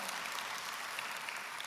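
A church congregation claps together for Jesus during a sermon, a steady, dense wash of applause heard from a distance without any voices over it.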